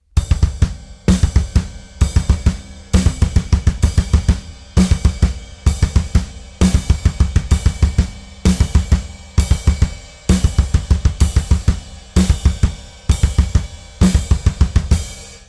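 A drum kit plays a fast, steady double-kick bass pattern with cymbal and snare hits, looping in tight repeated bars, loud and close.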